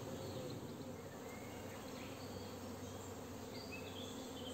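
Honeybee drones buzz steadily inside a mini-plus queen-rearing hive, a dense, continuous insect drone filling the space from start to finish, close and even with no voices.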